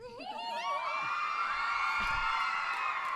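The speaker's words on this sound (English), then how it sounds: "So Now you have girls screaming for you." A crowd of girls at a premiere scream and cheer in high, sustained shrieks that rise and hold, loud and continuous, with no clear talking.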